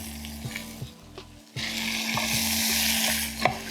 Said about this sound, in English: Now we're gonna go butter right into the pan.